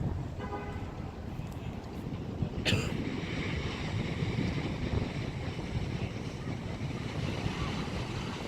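Ocean surf washing onto a beach during a wedding, a continuous low rushing wash with wind buffeting the microphone, a faint tone early on and a brief knock near three seconds, no voices.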